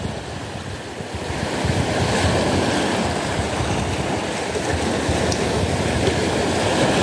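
Choppy sea waves washing onto the shore during a fishing trip, a continuous loud rush of surf with wind noise on the microphone and no speech.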